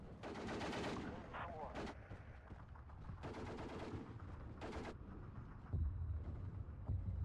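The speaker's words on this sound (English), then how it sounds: "it looks like they're engaging the PTRD bunker with their machine guns" Machine guns in the Steel Division 2 strategy game fire on a PTRD anti-tank bunker, heard as distant rattling bursts and scattered gunfire over a constant low battlefield rumble, with a deeper thud near the end.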